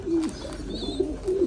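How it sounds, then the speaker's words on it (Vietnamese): Soft, low cooing calls from American giant pigeon squabs about 20 days old, a few short murmuring phrases close by over a steady background hum, with no voices. "Đây là chim ra ràng của bồ câu gà Mỹ nha."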